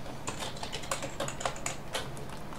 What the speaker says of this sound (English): Let me type something just to test it out.